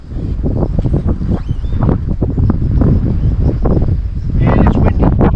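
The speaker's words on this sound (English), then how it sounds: "And on a cold day like today, it's minus 12 today, by the way." Gusty wind blows steadily across a cold winter campsite at minus twelve degrees, a rough, continuous roar buffeting the microphone with repeated sharper gusts throughout.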